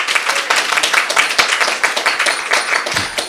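An audience at a morning devotional program applauds with dense, steady clapping from many hands, loud and close throughout with no break.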